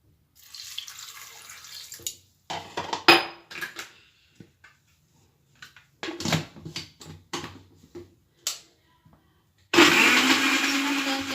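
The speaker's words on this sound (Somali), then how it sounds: "haddana waan shiidayaa" A blender grinds in a string of short, loud pulses separated by pauses, then runs in one long continuous whir at the end.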